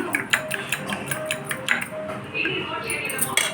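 Two eggs are beaten with gram flour in a bowl, a quick run of rhythmic clinks and taps from a utensil against the bowl, close and moderately loud, with a person talking faintly between strokes.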